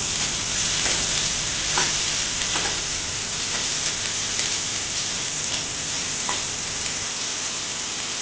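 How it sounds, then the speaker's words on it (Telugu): Chopped onions fry in a pan for a chole bhature curry, giving a steady, close sizzle with faint crackles and the occasional stir throughout. "కప్పు ఉల్లిపాయలు కొంచెం బ్రౌన్ కలర్ వచ్చే వరకు వేయించుకోవాలి"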